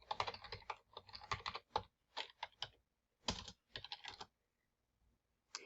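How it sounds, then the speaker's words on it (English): Login credentials typed on a computer keyboard, quick bursts of close keystrokes in several runs with short gaps and a longer pause near the end, fairly quiet overall and no talking. "he'll type in his credentials"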